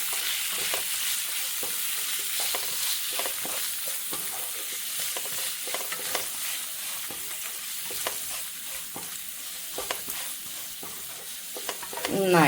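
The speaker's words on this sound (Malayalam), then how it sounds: "കുറച്ച് മഞ്ഞൾപ്പൊടി, കുറച്ച് ഉപ്പ്. നമുക്കിതൊന്ന് വഴറ്റിക്കൊടുക്കാം." Steady sizzling with turmeric powder and salt in a hot pan, broken by frequent scraping stir strokes, continuous and close with no talking.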